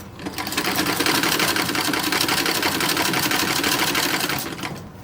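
A sewing machine stitches along a folded seam on a toddler romper. The whirring run is close and loud, rising in at the start and easing off at the end, with no talking.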